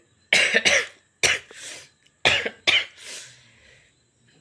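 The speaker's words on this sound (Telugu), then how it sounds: "దగ్గు కూడా ఆటోమేటిక్గా వచ్చాను తగ్గట్లేదు" A person sick with a viral fever coughs close up: two clusters of harsh, rapid coughs, each followed by a softer trailing breath, with short silences between.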